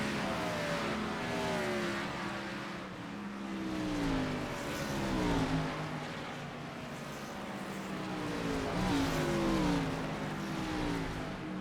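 Sim racing cars circle Watkins Glen in a racing video game, several engines droning and revving together with rising and falling pitch as they shift through gears, steady and fairly quiet.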